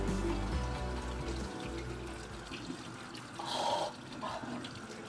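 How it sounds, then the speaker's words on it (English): Running water rinses an India ink wash painting, a steady splashing stream that rises briefly into a louder, brighter gush before settling back. "Rinsing it off."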